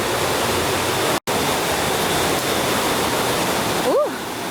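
Ugly River in St Mary, Jamaica, rushes steadily as a loud, broadband wash of flowing water, close and continuous, with a brief dropout and a short voice near the end.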